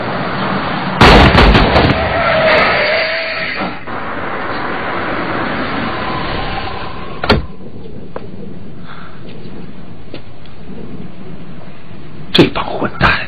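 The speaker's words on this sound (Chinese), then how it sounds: "开枪示警！" Warning gunshots ring out in an open setting: a sharp loud crack early, then scattered single shots and pops later on, with shouting voices and rumbling noise between them.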